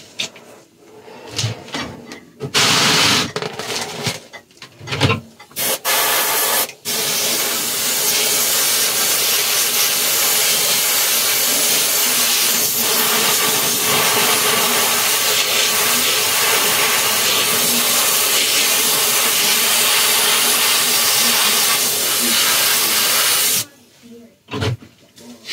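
An airbrush sprays Mr. Color GX metal red (number 202) paint onto a 1/4 scale Spiderman 2099 figure in steady, loud hissing bursts that run almost unbroken for about twenty seconds, with a few short clicks and pauses at the start and end.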